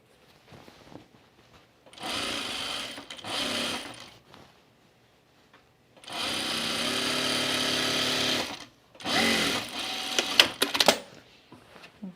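A sewing machine stitches the side seams of an Atlas blouse in three separate runs of steady, rapid needle chatter, with short quiet pauses between them and a few light clicks at the end.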